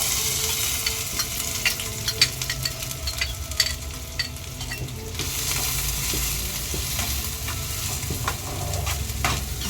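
Onions sauté in a pan for chicken masala, a continuous close sizzle with frequent clinks and scrapes of a spoon stirring against the pan, no voices.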